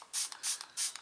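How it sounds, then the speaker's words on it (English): Liquid sprayed from a spray bottle onto a makeup brush, three short hissing pump bursts evenly spaced and close up, with small clicks of the trigger between them. "So I'm going to just spray my brush"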